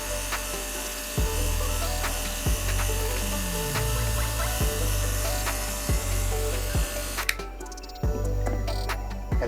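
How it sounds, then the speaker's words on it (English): An airbrush sprays a finish onto the back of a Sean Wotherspoon Air Max 97/1 sneaker during a restoration. A low motorized hum pulses at regular intervals under a faint hiss. "we only touched up this little back area, so that's the only place we need to airbrush a finish on"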